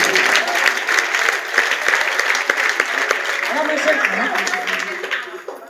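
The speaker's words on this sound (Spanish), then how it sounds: "Dar un aplauso fuerte." Loud, dense applause from a church congregation during a sermon, sustained crowd clapping that fills the space for several seconds before easing slightly at the end.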